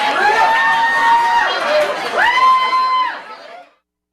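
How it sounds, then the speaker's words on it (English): A live radio audience cheers and whoops after an in-studio band performance, with loud, close, overlapping shouts and chatter that swell in two bursts and then cut off abruptly. "there was cheering and talking to the audience"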